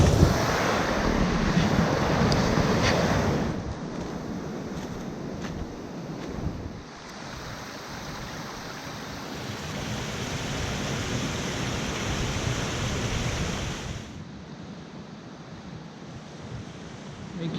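Ocean surf rolls onto a beach on the Lost Coast Trail, a continuous broad wash of waves with wind buffeting the microphone, swelling and easing over time.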